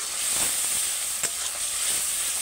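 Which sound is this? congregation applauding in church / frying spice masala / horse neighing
frying spice masala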